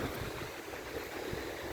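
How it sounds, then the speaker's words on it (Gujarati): Cold wind blows steadily outdoors as a soft, even rushing hiss that stays quiet and constant with no pauses and no voices. "ઠંડો પવન આવે છે જો"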